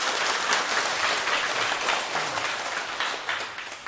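Audience clapping together in a lecture hall, a dense, even wash of applause sustained for several seconds at steady loudness, tapering slightly at the end.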